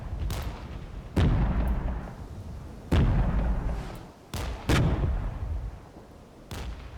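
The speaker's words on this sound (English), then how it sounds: "And enemy artillery is trying to hit our position." Enemy artillery shells land in a war strategy game, a series of loud, heavy booms arriving at irregular intervals, each decaying into a rumbling tail before the next impact.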